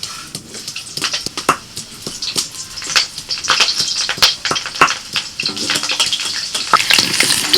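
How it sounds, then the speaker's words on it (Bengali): Potatoes frying in hot mustard oil in a wok give a loud, close, continuous crackling sizzle, with frequent sharp pops and occasional utensil clinks throughout. "কড়াইতে সরষের তেল দিয়েছিলাম তেলটা গরম হয়ে গেছে আলুগুলো দিয়ে দিচ্ছি"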